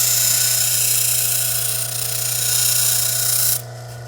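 Steady high-pitched whine of a grinding wheel reshaping a broken agate cabochon, loud and continuous before dropping off abruptly near the end.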